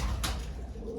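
A racing pigeon gives a soft, low coo close by, a brief throaty murmur with a faint higher chirp early on over a quiet background.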